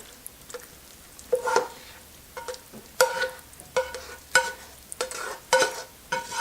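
Spaghetti squash being stirred together with sautéed ingredients in a casserole dish, with irregular scraping, clinking utensil strokes in short bursts, close and fairly quiet with pauses between.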